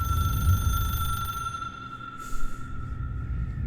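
A steady electronic ring from a telephone in the video game Control holds a sustained high tone over low ambient rumble, then fades, followed by a brief soft swish.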